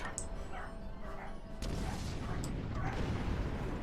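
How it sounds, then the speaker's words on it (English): Neighbours' dogs bark several times at a distance, faint and muffled under steady background noise. "neighbours' dogs are going bloody mad"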